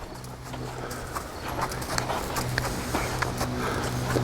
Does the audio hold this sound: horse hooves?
yes